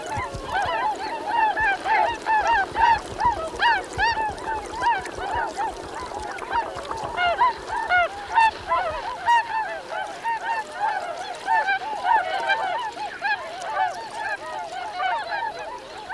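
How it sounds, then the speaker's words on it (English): A family of swans performs a greeting ceremony at a migration stopover, honking energetically in a dense, overlapping chorus of repeated calls that carries on steadily throughout. "The energetic calling and gesticulating of their greeting ceremony indicates that another family has completed the journey to this vital stopover."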